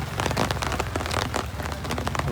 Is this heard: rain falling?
yes